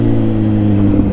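Kawasaki Z900 motorcycle engine running steadily during a ride, a loud, close, continuous low drone without pauses or voices.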